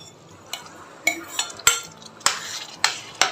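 Spoon scrapes and clinks against a pot as chana dal is stirred into melted jaggery for susiyam, several sharp strokes at irregular intervals over a low background, no talking.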